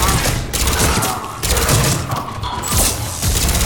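Turret gunfire in Mass Effect 3 comes as loud, rapid bursts of shots mixed with heavy thuds and impacts. The firing is packed and continuous over a few seconds, with short dips between volleys.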